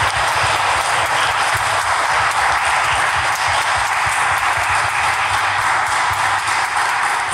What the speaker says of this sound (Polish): Więc wielkie brawa dla nich.